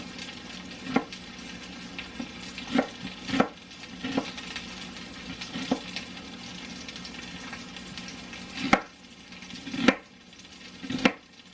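A knife chops food on a cutting board in a home kitchen while something sizzles and pops in a pan nearby, giving a dozen or so irregular knocks over a steady frying hiss.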